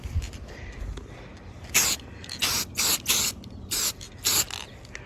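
Short bursts of gold spray paint hiss from an aerosol can onto a Spider-Man 2099 helmet, five or six close, sharp sprays in an uneven rhythm over a quiet background.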